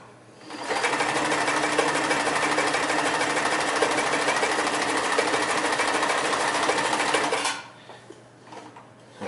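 Kenmore 158 series sewing machine with built-in gear reduction stitching through light leather, a fast dense mechanical whir that starts within the first second, runs steadily at close range, then stops with faint handling noises after.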